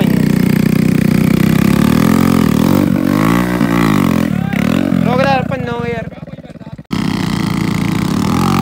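A Hero Splendor motorcycle engine runs close and loud, its revs rising and falling in pitch, dropping off briefly before roaring back near the end.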